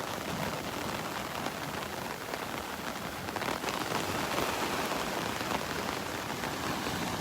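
Rain from Tropical Storm Elsa pours onto Vanderbilt Beach in Naples, Florida, a dense, steady hiss of drops that stays loud and unbroken throughout, with no voices.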